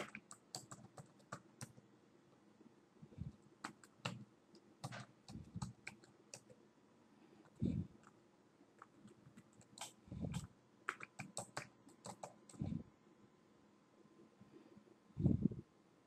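Someone types an email address on a computer keyboard: quiet, irregular bursts of quick key clicks broken by pauses and a few heavier thuds from larger keys, with no talking.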